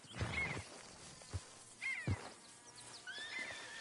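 A horse in the video game Red Dead Redemption 2 gives a couple of high whinnies and snorts amid light hoof thuds, fairly faint and heard without speech.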